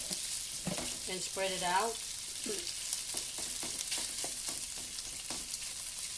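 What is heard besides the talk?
shrimp searing in a hot pan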